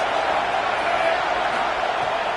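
A loud, dense football stadium crowd roars continuously as the defense pressures the offense in an FSU game, a steady wall of noise with a commentator's voice underneath.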